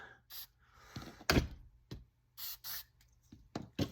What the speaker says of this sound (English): So I'm going to spray it on the buttons.